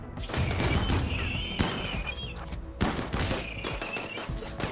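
Turret gunfire in RimWorld, a dense, continuous rattle of rapid shots with a few heavier thumps, loud and sustained across the moment with no speech.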